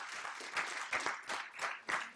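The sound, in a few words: church congregation applause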